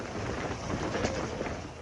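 A steady, dense roar of heavy rain in a thunderstorm fills the space with unbroken broadband hiss and low rumble, with no pauses or voices.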